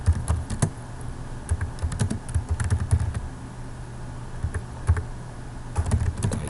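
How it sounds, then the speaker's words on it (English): Rapid, uneven bursts of keystrokes on a computer keyboard while writing in a Word document, close and clear, with brief pauses between runs of typing. "let me just type a few things over here"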